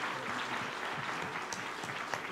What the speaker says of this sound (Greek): Ωραία, ένα χειροκρότημα, μπράβο σας